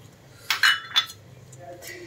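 Metal idli maker plates clink a few times, with two sharp knocks close together and a lighter tap after them, while a home cook prepares rawa idli in a kitchen.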